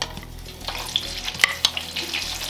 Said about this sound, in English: Begin by frying the onions.